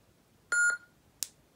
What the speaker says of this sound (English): push and hold the auxiliary button until it beeps once and then release